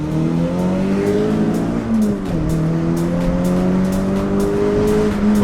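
A Peugeot 306 GTI with a bespoke custom exhaust accelerates hard in first gear, its loud rising engine note climbing steadily, dipping briefly at a shift, then climbing again, close and without talk.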